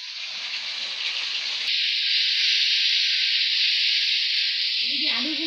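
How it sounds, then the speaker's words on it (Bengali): Ginger-garlic paste and potatoes sizzle in hot oil with a loud, continuous hiss that jumps up sharply as the paste goes in, then holds steady. Faint background noise runs underneath. "এবারে আদা রসুন বাটা ছিল তেলের মধ্যে দিয়ে দিই"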